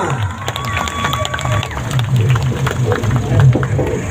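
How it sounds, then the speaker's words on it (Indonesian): A crowd of workers at a wage protest rally in Surabaya cheers and claps for their union president, a loud, steady roar of voices and applause with a few whistles rising above it. "Kita berikan aplaus yang meriah buat presiden kita"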